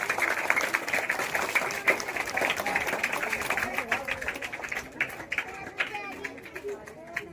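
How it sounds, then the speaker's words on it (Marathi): An audience claps together at a felicitation ceremony held by a school management committee. The applause is dense and steady, then thins toward the end, with background chatter mixed in. "सर्वांनी टाळ्या वाजवायच्या आहेत"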